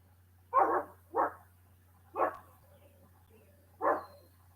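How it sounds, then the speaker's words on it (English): A small dog barks four times, sharp and fairly close, with uneven gaps between the barks over a low steady hum. "He barks at turkey vultures and eagles flying over."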